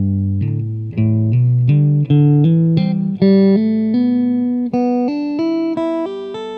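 Guitar repeating a hammer-on and pull-off pattern in groups of three notes, smooth legato notes climbing step by step, close and steady with a bright, effected tone and no voices.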